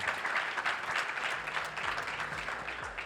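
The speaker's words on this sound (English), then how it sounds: "Why don't we give a round of applause to our amazing panelists?" An audience at a panel session on funding young innovators applauds the panelists, steady moderate clapping that fills the whole moment at middling distance.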